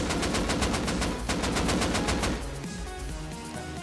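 Rapid automatic gunfire in the Rust survival video game during an online raid, a loud sustained burst of evenly spaced shots that fades into quieter, sparser firing at the end.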